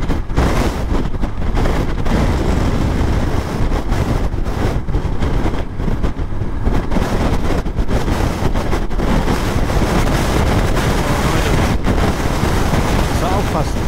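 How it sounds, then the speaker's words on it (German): Strong wind on Route 40 during a motorcycle trip roars and gusts against the microphone without pause, loud and close, with bursts of buffeting throughout. "Das ist nur der Wind."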